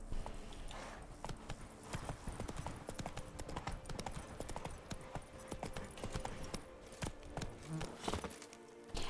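Hooves of the horse Roach clip-clopping steadily in The Witcher 3: Blood and Wine, a dense run of close hoofbeats over game ambience with no speech.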